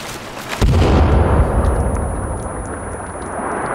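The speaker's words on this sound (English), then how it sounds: "One hand grenade." A hand grenade explodes in the survival game Sons of the Forest, with a sudden loud, close blast followed by a long rumbling, ringing decay.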